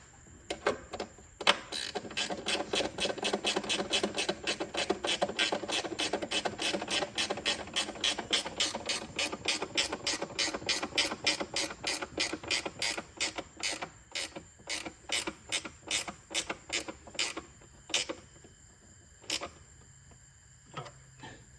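Close ratchet clicking drives in the fasteners of Hulse Designs LT6 intake manifold covers, a long fast run of steady strokes that breaks into slower, spaced bursts toward the end.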